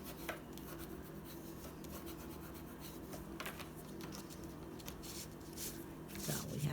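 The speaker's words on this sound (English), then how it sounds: "And I'll give that a good burnish so that adhesive sticks." A paper pocket is rubbed down firmly by hand to make its adhesive stick, giving soft, close scraping and rubbing strokes at a low level.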